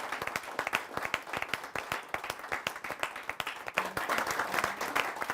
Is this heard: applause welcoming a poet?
yes